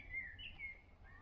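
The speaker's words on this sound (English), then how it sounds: "in that pine tree in the distance, so sort of at the top of there somewhere, is a blackbird" A blackbird sings from the top of a distant pine tree, its faint, thin chirping phrases heard alone over low background rumble.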